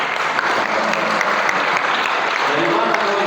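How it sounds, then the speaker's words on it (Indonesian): An audience at an MC training session claps for a speaker, a dense, sustained burst of applause from a room full of people, steady and loud throughout, with some voices mixed in. "Tepuk tangan buat yang bicara."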